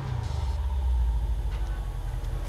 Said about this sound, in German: Ja, war einfach nur Kaltstart.